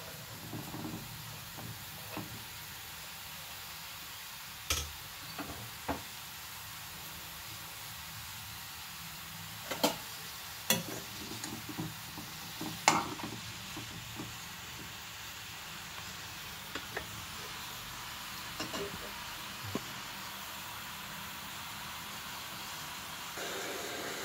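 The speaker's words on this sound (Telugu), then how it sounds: "ముక్కలు బాగా వేగాలి అందుకోసం ఎక్కువ వేయవలసి వస్తుంది ఆయిల్" Pieces fry in oil in a pan with a steady, quiet hiss and sizzle, broken by faint scattered pops and crackles across a long stretch, no speech.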